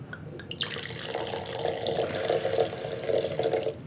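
2016 Chardonnay from Los Carneros, California poured into a wine glass, a steady close liquid stream lasting a few seconds with a bright splashing rise.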